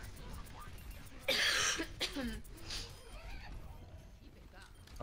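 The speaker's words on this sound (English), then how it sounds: "Talking about the cough." A single sharp cough bursts out close to the microphone in the middle of a quiet stretch, followed by softer throat noises during an online game session.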